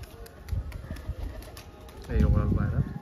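A tamra-coloured high flyer pigeon coos softly in a short low murmuring burst near the end, close by, with faint background noise and handling sounds before it.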